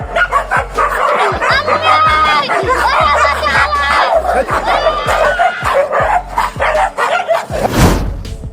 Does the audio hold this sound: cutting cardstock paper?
no